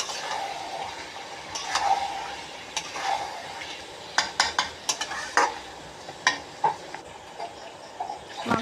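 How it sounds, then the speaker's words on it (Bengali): Chicken pieces fry in mustard oil with cumin and onion under a low, steady sizzle, while a utensil scrapes and clinks against the pan in irregular taps that sharpen toward the end. "এবার আমি মাংসগুলো দিয়ে দিচ্ছি।"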